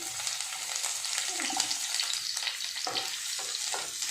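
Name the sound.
sliced onions frying in mustard oil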